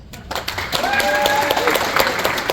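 A live comedy show audience breaks into loud applause that swells quickly and holds as a dense wash of clapping, with a few voices and whoops mixed in.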